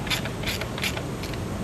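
A ratchet tightens the valve cover bolts on a MINI Cooper N16 engine, giving short bursts of rapid clicking in a steady back-and-forth rhythm, close and alone.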